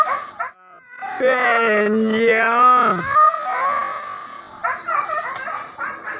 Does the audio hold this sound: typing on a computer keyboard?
no